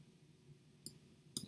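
A computer mouse clicks twice, with the two short, sharp clicks spaced about half a second apart against a quiet room background.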